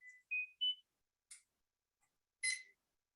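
An analog avalanche beacon receiver gives short electronic beeps and tones at irregular spacing, some steady pitched and some buzzy, fairly faint against near silence.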